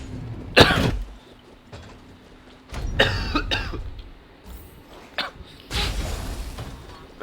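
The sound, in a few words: coughing into the microphone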